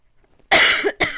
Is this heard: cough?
yes